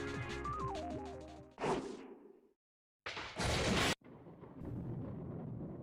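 A sharp crash of thunder cuts off a musical passage, then a short silence before another loud roaring crash, trailing into a lower rumble.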